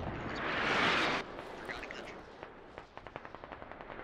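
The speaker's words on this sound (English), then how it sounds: "Lots of firing up here." Gunfire in the military shooter game Squad: a dense roar of fire builds for the first second, then gives way to scattered distant cracks and a closing string of evenly spaced rapid shots.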